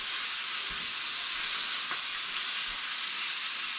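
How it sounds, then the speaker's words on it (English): Roast beef sears in a hot pan with a steady, close sizzle and hiss, plus a few faint soft knocks and no talk. "now it is beautifully seared on all of the sides"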